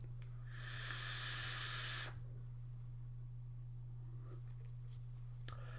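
A close hiss of vapour drawn through an Augvape Intake RTA with the airflow half open, one steady pull of about a second and a half, then quiet hum with faint clicks.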